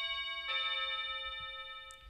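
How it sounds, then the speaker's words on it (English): A doorbell chime rings out with a sustained, ringing tone that fades slowly, set against a quiet room with faint background noise. "You can hear our doorbell in the background."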